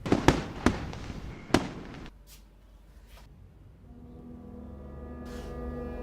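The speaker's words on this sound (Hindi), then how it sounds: "अब तो मन करता है आराम से छत पे लेट के आसमान में रंग बिरंगे स्काई शॉट देखो।" Colourful sky shot fireworks bursting outdoors, several sharp pops in quick succession, followed by fainter distant crackles and a low sustained drone.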